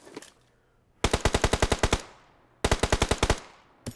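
Automatic gunfire at a bot in PUBG Mobile on the Miramar map: two loud, close bursts of about ten evenly spaced shots each, separated by a short pause, with faint earlier shots.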